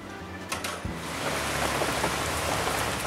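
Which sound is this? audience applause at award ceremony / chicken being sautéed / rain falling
rain falling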